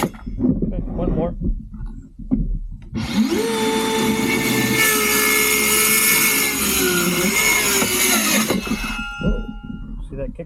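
Power saw cutting through a piece of wood, a loud sustained whine of several seconds with a pitch dip as the blade kicks back, preceded and followed by someone talking nearby.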